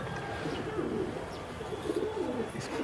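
Brown high-flyer pigeons cooing softly in a loft in Rajasthan, repeated low warbling coos with a few faint chirps over a steady background hum.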